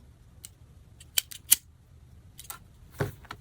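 Scissors snip thread ends while finishing a sewn laptop bag, a handful of sharp, close clicks scattered across quiet moments with no talking.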